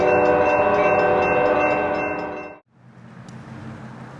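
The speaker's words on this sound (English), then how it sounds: "Train 5 heads south toward the BNSF crossing at Stockton Yard" An ACE commuter train heads south at Stockton Yard, a loud sustained horn blast holding steady for over two seconds before cutting off, leaving the rumble of the passing train.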